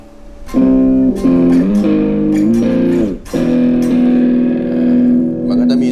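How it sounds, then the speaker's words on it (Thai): A heavily distorted electric guitar through an amp simulator plays sustained chords and a few shifting notes, loud and saturated, with a buzzy amplified edge throughout. "ถ้าเราแบบอยากได้แอมหัวแตกเลย"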